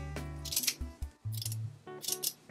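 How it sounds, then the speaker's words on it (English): Scissors snip off part of a sewn art doll piece, giving several crisp metallic cuts in quick clusters, close and clear with no talking. "So I'm going to cut this off and just kind of shorten it up a bit."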